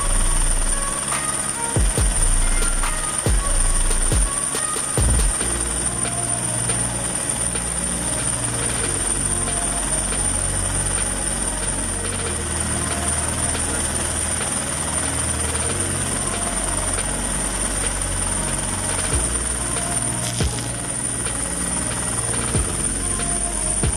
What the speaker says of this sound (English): just think about the challenge for a pilot trying to keep a helicopter steady through it all